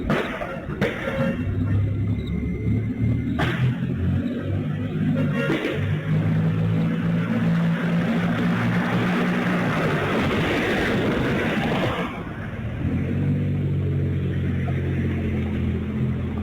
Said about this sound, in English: that same Mercedes car speed through the streets